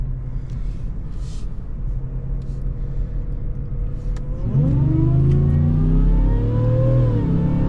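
A supercharged 2025 Ford F-150 with a 10-speed transmission accelerates at half throttle from a rolling start: a steady low rumble swells midway into a loud, rising engine roar with climbing supercharger whine, close and continuous, without talking.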